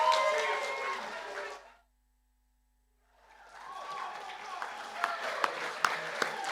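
Audience applause at a live poetry performance, a dense crowd of clapping that fades out, goes silent for over a second, then swells back with sharp individual claps standing out.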